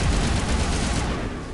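A short, loud, unbroken roar of full-auto weapon fire in a video game, steady from start to finish with no pauses between shots.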